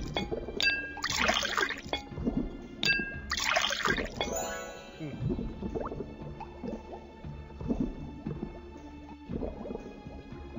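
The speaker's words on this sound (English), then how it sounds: "That's the dinner bell!" A dinner bell in a video game rings out in several bright, clanging dings in two bursts, followed by softer drips and squishy clinks that trail on alone.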